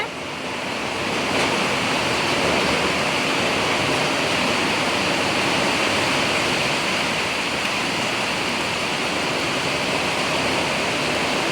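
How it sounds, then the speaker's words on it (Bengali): A steady roar of heavy downpour during a night storm in Siliguri fills the air, loud and constant, with a broad rushing texture like rain driven by storm wind. "এখানে প্রচুর বৃষ্টি হচ্ছে"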